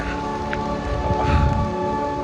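Rain falls at Mallalli Falls in Kodagu while the waterfall roars nearby. A steady, dense wash of water noise carries through the whole stretch, with no voices over it.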